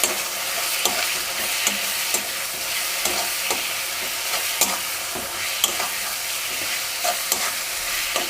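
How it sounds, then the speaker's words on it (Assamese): Ginger and garlic sizzle in hot oil in a pan for mutton curry while being stirred, a steady bright frying hiss broken by regular scraping strokes of the spoon, close and continuous with no talking. "ইয়াতে দি দিছোঁ আদা নহৰু এতিয়া লৰাই দিম অলপমান এনেকৈ"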